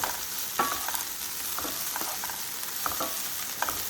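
Small cauliflower pieces for a vegetarian cauliflower fry crackle in hot oil in a pan, a steady close sizzle broken by a few sharp clinks and scrapes as the pieces are stirred now and then.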